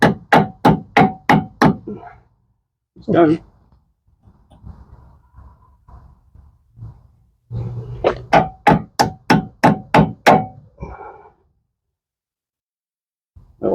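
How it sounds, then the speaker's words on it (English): Sharp hammer blows on a metal steering rack part of a Mitsubishi 3000GT in quick bursts of about six, close by, with a brief spoken word and some clanking between the runs. "I'm going to grab a hammer and see if we can tap that out."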